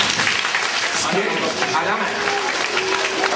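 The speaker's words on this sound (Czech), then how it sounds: "Zatleskejte mu." A studio audience on a children's TV show applauds with steady, dense clapping, while a voice speaks briefly over it.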